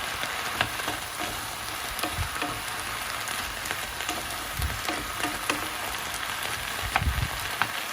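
Vegetables and mushrooms sizzle steadily in a hot pan, with a constant crackling fry and occasional soft scrapes as they are stirred.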